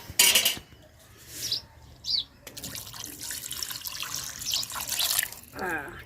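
Water poured into a pot while making sambar, bursts of splashing and trickling between quieter gaps, with faint chirps and brief background voices, close by.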